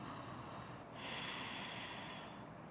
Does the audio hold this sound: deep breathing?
yes